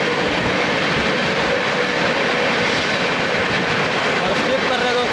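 Dadri–Prayagraj Special passenger train rushing past during a crossing at Phaphund station, heard from aboard a moving train as a loud, continuous roar of rail noise with rumbling wheels, a voice faintly underneath.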